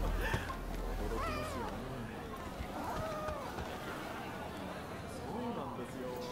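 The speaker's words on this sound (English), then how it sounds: "Oh, there are some cats in here." Cats in the video game Rise of the Ronin meow repeatedly in drawn-out, wavering calls, several spaced a second or two apart, over a steady game ambience with voices.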